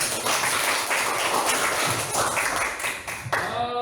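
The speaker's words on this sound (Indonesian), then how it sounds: "Oke, tepuk tangan kita semua." A crowd claps together in sustained, dense applause, a steady rush of many hands that continues throughout before tapering slightly near the end.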